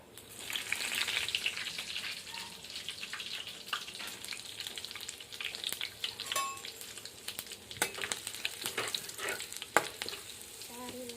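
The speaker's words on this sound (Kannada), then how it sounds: "ಎಣ್ಣೆನೋ ಕಾಯ್ದದ ಇದಕ್ಕೆ ಇವಾಗ ಜೀರಿಗೆ ಹಾಕೋತೀನಿ ರೀ ನೋಡಿರಿ ಚಟ್ಪಟ್ ಚಟ್ಪಟ್ ಆಗುತ್ತೆ" Cumin seeds sizzling and crackling in hot oil in a village kitchen, a steady frying hiss peppered with sharp pops and spits throughout, with no speech over it.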